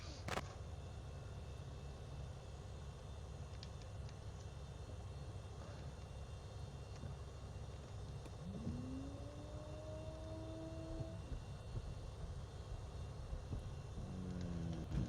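Beechcraft aircraft in Flight Simulator 2020 starting its takeoff on runway 23 at Inverness, steady engine drone throughout, rising tones near the end as it accelerates.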